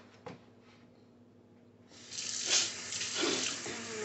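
Hands are washed under a running kitchen tap; after a quiet start with a faint clunk, the water comes on and splashes steadily for the final two seconds, close and fairly loud.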